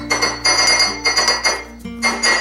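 A microwave-safe mug or bowl clinks repeatedly as it is handled, giving a string of sharp, close ceramic knocks in an uneven rhythm over a low steady hum, with no talking.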